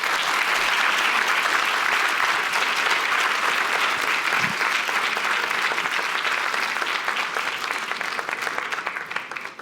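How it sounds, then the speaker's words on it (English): Sustained audience applause filling a hall at a university speech night competition, steady dense clapping throughout that tapers slightly toward the end. "Let's give them all another round of applause."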